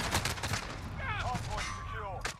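Video-game gunfire, a quick run of sharp shots mixed with game effects, heard under steady talking from players.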